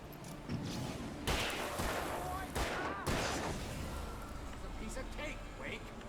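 Gunfire in the Alan Wake game booms in several loud bursts, a cluster of heavy shots early and another pair a moment later, with a voice talking over the action.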